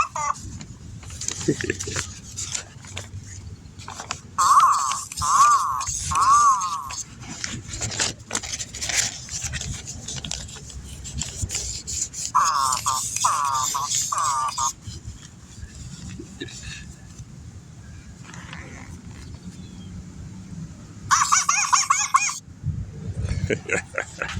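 Chicken-like fowl call outdoors at dusk, a few clucking, gobbling bursts at middling distance that come and go over a long stretch of rustling ambience, with a person talking through much of it.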